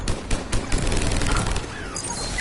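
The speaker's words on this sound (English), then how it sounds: "Commander, we're getting a lot of mortar fire." Mortar fire and heavy gunfire crash through a Mass Effect 3 battle against Cerberus, with rapid booming bursts and thuds in the first second and a half, then a dense, rumbling barrage with no talk.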